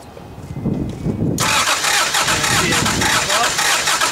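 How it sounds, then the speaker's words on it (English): A 1988 Toyota Supra A70 engine cranks during a compression test, a loud, steady, close whirring churn that starts abruptly about a second in and runs continuously to the end. "Then you're going to have your helper crank it."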